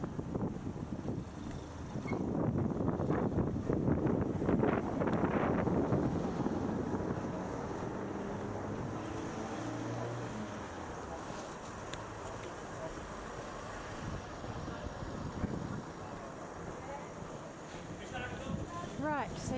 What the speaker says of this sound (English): It's a typical fishing harbour.